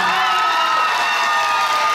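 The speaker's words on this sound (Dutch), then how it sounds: "Uw applaus voor Oriana van Mosselaar." Loud, dense audience applause mixed with cheering and whoops from a large crowd in a hall at a beauty pageant final, sustained and steady throughout.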